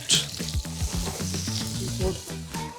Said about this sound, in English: Me always like to seal the meat, the fish, because I like the juice they stay inside.